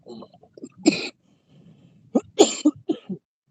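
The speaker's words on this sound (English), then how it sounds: "Y'all gotta excuse my little cough. I got an itchy throat." A man with an itchy throat coughs sharply once, then after a pause gives a rougher burst of coughs and throat-clearing, close and loud in an otherwise quiet space while crappie fishing on Lake Houston.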